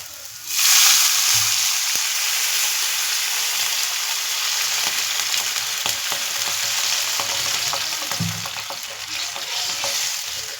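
Vegetables for Korean noodles sizzle and hiss in a hot pan as water is poured in, a sharp burst of steam followed by steady frying and occasional stirring scrapes.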